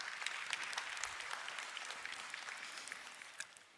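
Congregation applause during a church sermon, a steady wash of many hands clapping at moderate, fairly distant level throughout.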